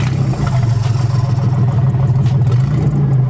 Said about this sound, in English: It's basically a loud exhaust leak because the theft hacksawed your exhaust, leaving a gaping hole.